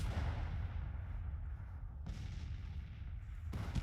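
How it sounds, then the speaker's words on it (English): Artillery cannons fire in the Civil War strategy game Grand Tactician, a dense, continuous rumble of booming shots with two sharper blasts standing out, loud and steady throughout with no talking. "they're under artillery fire"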